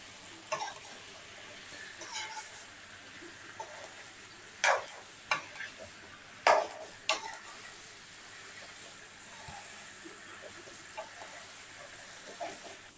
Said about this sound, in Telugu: ఒక 2 నిమిషాల పాటు కలుపుకుంటూ మీరు వాటిని అయితే బాగా మగ్గించుకోండి.